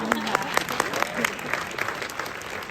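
An audience claps steadily at a Q&A with the cast and filmmakers of Disney's animated film Wish, at a moderate distance, with voices mixed in over the clapping.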